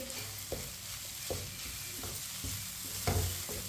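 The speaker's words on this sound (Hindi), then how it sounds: "मिक्स करके मसालों को 1 मिनट के लिए पका लेंगे।" Spices and grated coconut frying in a pan for bitter gourd, a soft steady sizzle with spoon strokes tapping and scraping at intervals, quiet and close with no talk.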